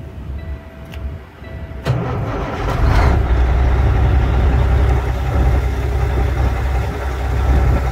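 A 2010 Kenworth T660 sleeper truck's diesel engine runs at a steady idle, a deep continuous rumble up close that holds even after a brief bump in level near the start.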